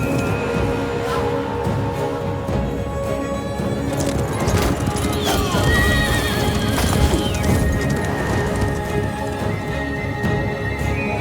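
A white horse in the Total War: Attila video game neighs loudly among clattering hoofbeats and battle noise, with a voice faintly present beneath the din.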